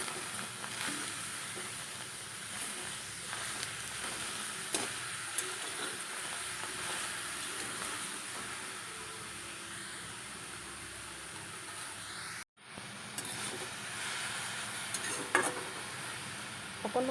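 Steamed taro leaf dish being stirred in a pan on a gas stove, soft scraping and light sizzling running steadily for the whole stretch, with a brief dropout partway through.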